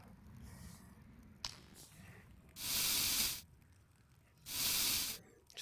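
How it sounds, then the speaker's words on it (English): Two loud, even bursts of cleaning spray hiss onto a gun magazine inside the Into the Radius VR game, each lasting about a second, separated by quieter handling clicks and a low background hum. "I'm assuming you just spray them and brush them."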